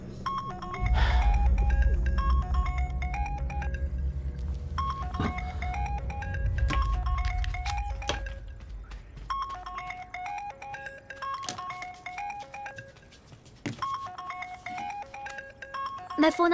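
A melodic electronic phone ringtone plays in a repeating tune of bright beeping notes, with a low rumble and other sounds beneath it early on.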